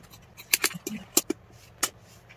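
Scissors cutting fabric for an off-shoulder crop T-shirt, a handful of short, crisp snips in an irregular sequence, close and fairly clear against a quiet background.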